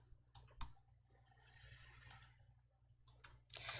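Computer mouse clicks sound faintly and close up during work in an Excel spreadsheet, a few sharp isolated clicks over a low background hum.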